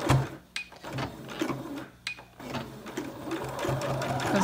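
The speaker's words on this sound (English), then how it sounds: "So we're just going to quickly sew these down" An electric sewing machine stitches down the seams of a washable DIY filter face mask, running in close, loud bursts with brief pauses between runs.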